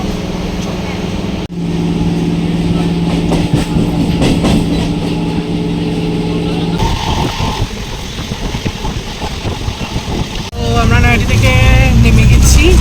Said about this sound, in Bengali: ট্রেন ছেড়ে দিয়েছে আর এখন আমরা যাচ্ছি